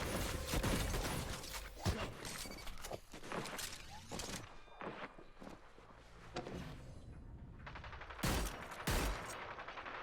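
Shotgun and other gunfire in the Hyper Scape battle royale game, dense overlapping shots and bursts with footsteps and mechanical clatter, loud throughout with sharp blasts near the start and end.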